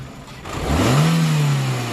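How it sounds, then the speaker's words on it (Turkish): A Renault Megane II 1.6 16V petrol engine with a coolant-loss fault gets a single throttle blip, climbing from idle to a short rev and easing back down, close and alone. "Araca bir gaz ver bırak."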